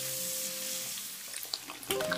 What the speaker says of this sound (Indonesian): Aduk-aduk bolak-balik, goreng udang rebon sampai matang dan kering.